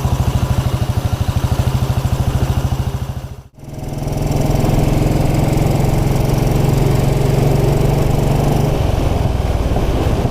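A 1929 Ariel motorcycle engine runs loud and close while being ridden in gear on country lanes, a steady rapid thumping beat that dips briefly during a gear change, then picks back up to a strong, even drone.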